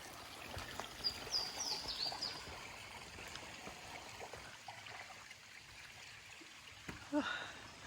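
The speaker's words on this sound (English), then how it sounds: "I like the sound of running water." Running water of a small stream beside a wooded hiking trail, a soft continuous trickle and babble heard fairly faintly, with a few brief bird chirps and light footsteps mixed in.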